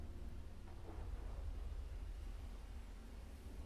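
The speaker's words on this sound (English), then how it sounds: "And the crew setting sail. Captainless. And they head into a storm." Stormy weather at sea in the game Saltsea Chronicles, a steady wash of rain-like noise with a low continuous rumble of thunder underneath, moderately quiet and unbroken throughout.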